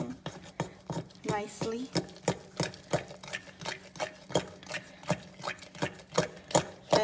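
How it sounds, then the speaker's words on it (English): Cupcake batter with baking powder being stirred in a mug, a steady run of quick, rhythmic scraping taps of utensil against ceramic, close and clear, with a brief spoken word partway through. "we're gonna mix all up, everything mixing"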